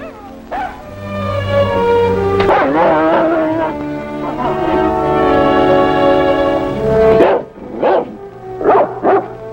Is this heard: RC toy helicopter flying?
no